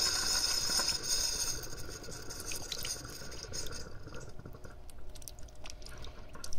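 Tap water splashing and trickling steadily after a supply outage in Stryków, a fairly close, continuous wash that starts stronger and eases slightly, with no one talking.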